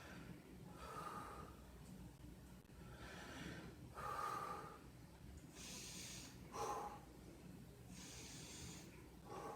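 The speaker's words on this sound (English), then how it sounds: "Nice deep breath." A patient breathes deeply in and out during a chest exam, repeated slow breaths with airy hiss, close and fairly faint, no talking over them.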